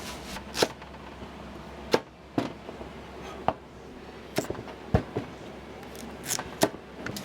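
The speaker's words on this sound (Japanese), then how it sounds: "この野菜をみじん切りにして入れて味噌かけて" Vegetables finely chopped with a knife on a board in a family-run Tokyo Chinese diner kitchen: sharp, irregular knife strikes, close and distinct, spaced over several seconds against kitchen background noise.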